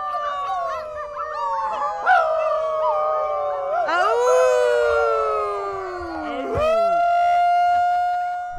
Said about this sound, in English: Some howl to let out stress from the pandemic.